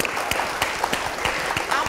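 Audience applause welcoming teams on an Odia music show, a fairly loud, even beat of clapping that keeps a steady rhythm throughout.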